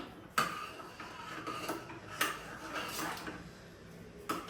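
Pav bhaji is being stirred in a pot with a spoon, making faint, intermittent scraping clinks at irregular intervals over a quiet kitchen background.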